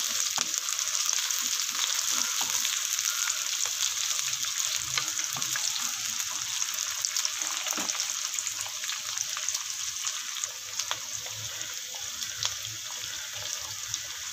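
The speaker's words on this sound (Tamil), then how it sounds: "இப்போ கருவேப்பிலை போட்டிருக்கேன்" Curry leaves sizzle in hot oil for a Kerala-style fish curry, a loud, steady frying hiss with small crackles and spits throughout.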